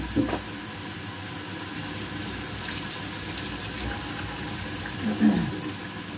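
Water is poured into a pot of kofta curry, a steady low wash with a soft splash near the start and another toward the end, close and moderately loud in a home kitchen.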